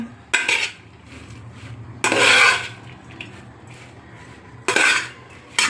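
Ragi puttu being broken up in a dish, heard as three separate bursts of utensil scraping and clinking against the dish, close and clear, with quiet pauses between them.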